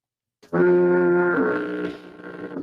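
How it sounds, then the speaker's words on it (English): A single deep, brassy foghorn blast sounds after a short silence, holding steady and then tapering off, with no voices present. "That's foghorn."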